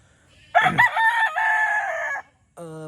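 A single black fighting rooster crows nearby on a farm, a loud drawn-out call, followed by a brief second bird call.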